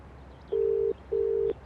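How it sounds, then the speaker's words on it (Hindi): A telephone call is placed, heard as two identical steady electronic tones, each lasting under half a second, separated by a short pause over a quiet background. "शशांक को ट्राई करता हूं।"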